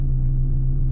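A low, steady exhaust drone from the Koenig car in Mon Bazou, a constant idle rumble heard alone for a second.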